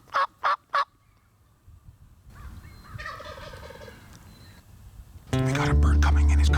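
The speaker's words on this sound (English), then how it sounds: "we can hear a gobble way back in the distance here" A wild turkey tom gobbles in quick bursts somewhere in cedar-patch hunting country, followed by quieter rustling and faint calls, then a loud close burst of noise at the end.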